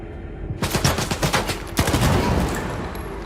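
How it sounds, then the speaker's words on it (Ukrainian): Gunfire bursts in STALKER 2 strike a gas cylinder, a rapid volley of close, loud shots followed by a heavier blast and a sustained rumbling roar. "Зараз ми балона підірвемо, як він підійде ближче."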